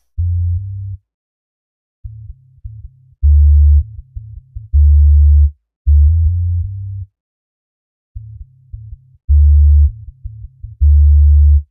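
Deep reggae sub bass synth from an Ableton rack, playing short rhythmic bass notes in repeating phrases with gaps between them, clean and loud, with no voices.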